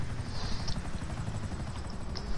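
Helicopter in a video game, a steady low rotor thrum and whine holding at moderate level through the whole stretch with no voices over it.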